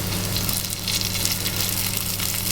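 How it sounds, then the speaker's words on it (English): Zucchini fritters frying in a pan of hot cooking oil give a dense, steady sizzle and crackle, an even bright hiss that stays loud for the whole moment with no one talking. "let's start cooking these fritters"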